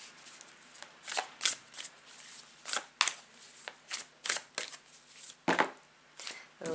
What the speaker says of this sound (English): take a couple of deep breaths whilst I shuffle the cards